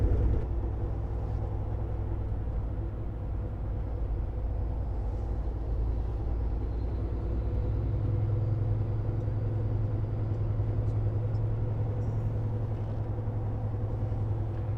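A car idles and rolls slowly through a parking lot toward a back corner space, its steady low engine rumble close and continuous with no talk.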